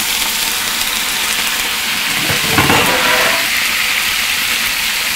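Curry leaves crackle and sizzle in hot oil in a restaurant kitchen while preparing chicken thoran, with a steady loud frying hiss and a brief burst of stirring and spattering midway, and no voices.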